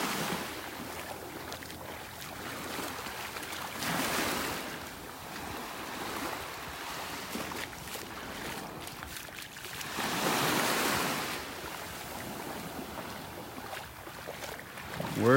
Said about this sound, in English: Peaceful, just walking along here, listening to the waves.